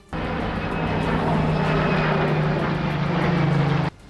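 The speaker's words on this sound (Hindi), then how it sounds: "उसने F-35A लाइटनिंग II लड़ाकू विमान पर दांव लगाया है, क्योंकि वो 5वीं पीढ़ी का स्टेल्थ फाइटर जेट है" An F-35A Lightning II stealth fighter jet flies by with a steady, loud, broadband roar that holds for about four seconds before cutting off abruptly.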